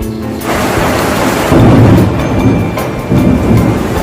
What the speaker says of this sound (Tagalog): Maulan ngayon